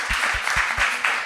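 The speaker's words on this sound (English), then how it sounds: "Round of applause, colleagues." Colleagues applaud at the close of a talk on digitalisation in Latvian communities, with a short burst of dense clapping. Soft low thumps recur beneath the hands throughout.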